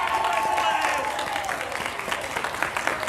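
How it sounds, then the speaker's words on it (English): A live convention game-show audience at Zenkaikon breaks into applause after a contestant's death scene, a broad wash of clapping that starts strong and tapers slightly, with a voice talking over it. "give a round of applause"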